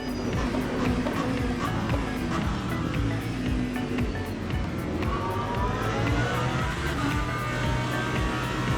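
A GT3 race car in a racing video game coasts toward a braking zone, its engine droning loudly and continuously with a gradually shifting pitch as it rolls off the throttle.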